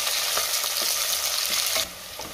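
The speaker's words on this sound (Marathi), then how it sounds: "कांदा मी 2 मिनटं चांगला परतून घेणार" Onion sautés in a pan for masoor pulao, a loud, continuous hissing sizzle with a few scraping stirs, easing slightly near the end, with no voices.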